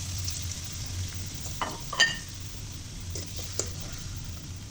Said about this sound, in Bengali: পেঁয়াজ এবং কাঁচামরিচটাও আমি মিডিয়াম হাই হিটে মোটামুটি একটু ভাজা ভাজা করেই ভাজবো